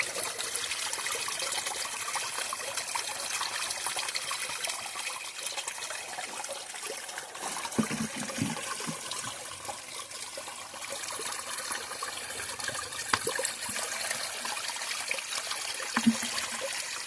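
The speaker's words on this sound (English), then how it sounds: "You always want to try to find good flowing water." A mountain stream flows beside the Appalachian Trail, a steady close trickling and rushing of water that continues without pause, with a few faint knocks.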